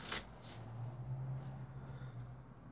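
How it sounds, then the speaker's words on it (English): A deck of playing cards shuffled during a close-up magic trick: a quick soft riffle near the start, then faint handling over a steady low room hum. "So let's say you want to shuffle the cards."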